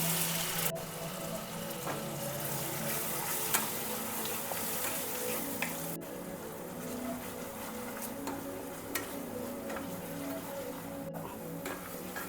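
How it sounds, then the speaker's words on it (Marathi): Finely chopped onion frying in oil and butter in a pan for pav bhaji: a continuous soft sizzle and crackle with occasional stirring scrapes, steady and close, no talking. "आता सर्वात आधी यामध्ये आपण बारीक चिरून घेतलेला कांदा घालून घेणार आहोत"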